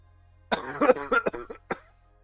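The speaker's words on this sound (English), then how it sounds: "I'm gonna cough a little bit" A few throaty coughs close to the mic, a cluster of rough bursts followed by one short final cough, with quiet around them.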